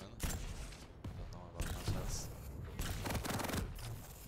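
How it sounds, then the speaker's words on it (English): Machine gun fire from the Quake video game in a competitive pro league match, rapid bursts of gunfire and impacts over a busy game mix, with an excited commentator talking throughout. "Double machine gun though."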